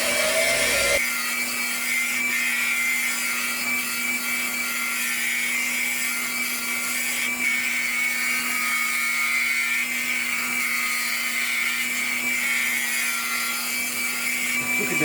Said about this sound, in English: I'll carry on turning it round, just using my scraper, my round nose scraper for now.